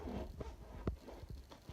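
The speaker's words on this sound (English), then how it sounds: "Flip it over, zip it up." A zipper closes a small packable travel bag stuffed with shorts and shirts, several quick quiet rasping pulls close by, faint overall.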